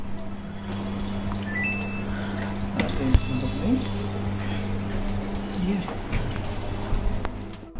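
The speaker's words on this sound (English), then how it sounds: "And the machine taking the water again." A Whirlpool fully automatic top-load washing machine fills with water during its rinse cycle, a steady running rush of water with a low mechanical hum underneath and a few faint clicks.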